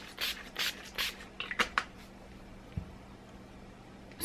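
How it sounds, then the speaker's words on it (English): Makeup setting spray misted in several short bursts, close and crisp, then a few soft handling taps and a quiet room. "I'm then going to finish off with some setting spray"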